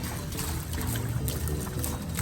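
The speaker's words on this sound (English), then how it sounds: "The water feature is really beautiful." Water splashes and pours steadily from an outdoor water feature, a constant close wash of trickling and spattering with no pauses.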